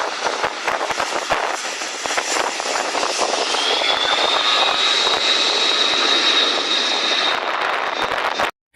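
A C-130 Hercules makes a low landing pass over a lake where planes scoop water for firefighting. Its engines give a loud, sustained roar with a rising whine, then cut off abruptly at the end.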